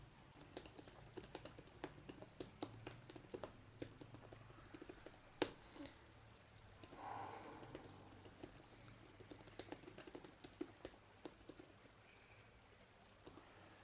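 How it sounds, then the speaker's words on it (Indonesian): Typing on a Lenovo IdeaTab tablet's detachable keyboard case: a few irregular, soft key clicks and taps, fairly faint, with no voices over them. "Oke, kita akan coba ngetik sedikit aja."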